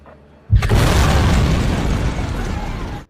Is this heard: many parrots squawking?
no